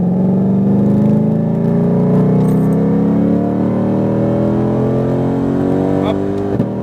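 Sports car accelerating on a race track in Las Vegas, a loud close engine note climbing steadily in pitch through the rev range, with an instructor's voice heard over it.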